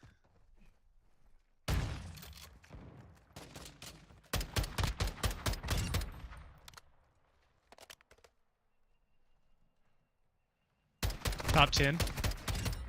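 Gunfire rings out in the video game Modern Warfare II during a Gunfight match. Several rapid, loud bursts are separated by quiet gaps, with a player talking briefly.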